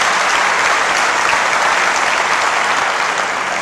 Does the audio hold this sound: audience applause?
yes